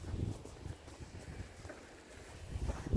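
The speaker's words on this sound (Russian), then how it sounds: "У нас на берегу реки Кама всегда ветра." Strong wind on the bank of the Kama river, gusty buffeting rumbling across the microphone in uneven surges, loudest at the start and end, with no voices.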